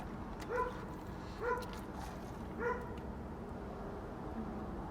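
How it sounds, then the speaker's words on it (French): A dog barks three times at a steady pace, somewhat distant and faint over a low background hum. "Excusez le chien qui jappe"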